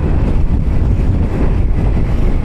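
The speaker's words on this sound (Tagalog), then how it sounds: "Lakas ng hangin po eh." Strong wind buffeting the microphone during a motorcycle ride on a long road trip, a loud, constant low roar and rumble with no break or other sound over it.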